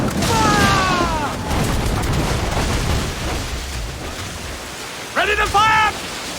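Ship cannons boom from a naval battle in Assassin's Creed IV Black Flag, a loud rumbling barrage with sea noise under it, mixed with shouted crew commands and a short burst of high whistling near the end.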